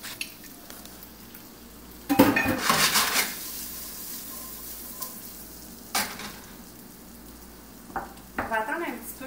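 Onions dropped into a hot pan, a loud burst of sizzling as they land, then a steady fry broken by a few spatula clatters and scrapes.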